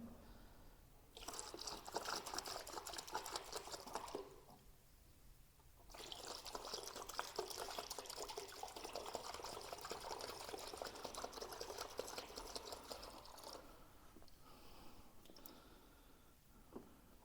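Water poured from one-liter bottles into a mix during a bathroom remodel, two long splashing, gurgling pours separated by short pauses, faint and close, with a final short trickle.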